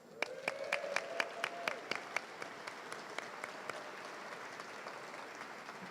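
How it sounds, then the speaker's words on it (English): Scattered applause at a reception, with a few sharp individual claps standing out early over a softer, steady patter from the crowd, fairly quiet overall. "another big applause to them"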